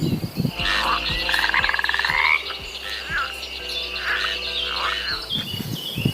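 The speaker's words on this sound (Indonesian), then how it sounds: "Wow, lihat ada seekor katak." A toy frog croaks in repeated rhythmic bursts, loud and close, with a rapid chirping trill and a steady electronic hum underneath.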